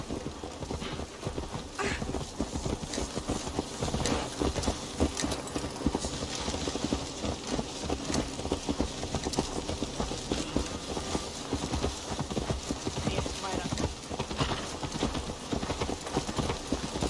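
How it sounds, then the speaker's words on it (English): Horse hooves clip-clopping steadily in Assassin's Creed Valhalla, a continuous rhythmic trot layered with game ambience and background music throughout. "Let's return the horse."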